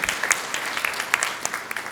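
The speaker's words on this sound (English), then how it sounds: "Let's give him another round of applause." Audience at a Rotary Club of Atlanta meeting applauds a speaker, a steady patter of many hands with scattered sharper claps, moderately quiet and continuous with no talking over it.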